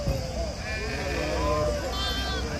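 Sheep bleat repeatedly amid a crowded livestock market in Gudur, with lambs and adults close by and people talking over the animals.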